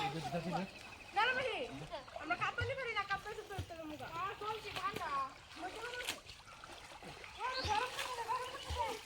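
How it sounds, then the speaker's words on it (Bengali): People bathe in outdoor water during a Holi outing, splashing and sloshing close by while children and adults talk and call out over the watery splatter throughout. "জলে নেমে গেছে এখন সবাই"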